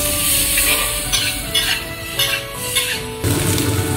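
Carrots stir-fried in a wok with a little oil, loud close sizzling under brisk scraping strokes of a spatula on the metal, ending in a sudden louder surge of frying.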